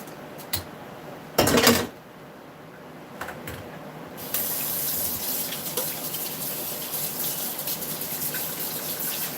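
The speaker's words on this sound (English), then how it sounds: "I'm going to set that in the sink so I can get it rinsed" Tap water runs into a kitchen sink while meatball ingredients are rinsed, first as a couple of short spurts and then as a steady, close gushing stream that lasts to the end, with no voices.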